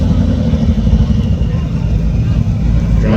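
Engines of two Honda hatchbacks idling and revving at a drift night car show at Irwindale Speedway, a loud continuous low rumble with crowd chatter mixed in.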